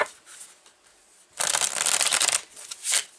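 A deck of cards is shuffled close up: light rustling gives way to a loud, dense riffle burst lasting about a second, then a final shorter riffle.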